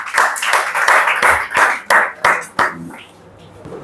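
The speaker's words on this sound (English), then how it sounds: "Big round of applause for everybody" A class at a pronunciation and accent institute claps for the students who spoke, a loud, close burst of applause that thins into a few separate claps and then stops.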